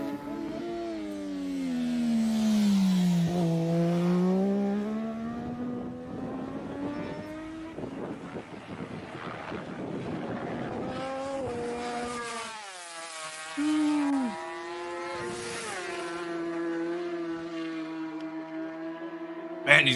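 A pack of racing motorcycles at the Isle of Man TT road race accelerate together, their engines rising and falling in pitch as they shift through gears, loud and sustained, with a brief drop before they surge again.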